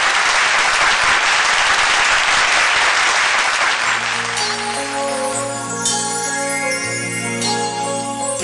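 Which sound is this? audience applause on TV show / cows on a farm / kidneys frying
audience applause on TV show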